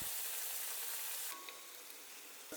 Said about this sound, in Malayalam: ഇനി ഇച്ചിരി നേരം നമ്മൾ എണ്ണയിൽ സൗണ്ട് ഉണ്ടാക്കും